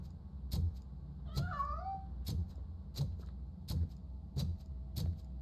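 A cat gives a single rising-then-falling meow as it escapes, close and clear. Behind it runs a steady low hum and a regular, evenly spaced ticking.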